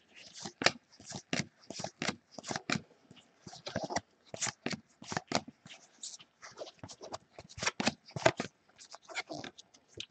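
2018 Donruss football trading cards flipped through one after another, a fast steady series of crisp close card slaps and snaps across the whole stretch.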